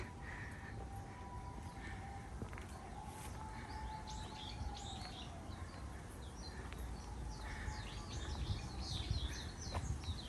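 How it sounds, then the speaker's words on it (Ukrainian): Birds chirp and sing in short, scattered phrases over a steady outdoor background hum in a residential side street in Japan, fairly distant and soft throughout. "і пташки почали співати"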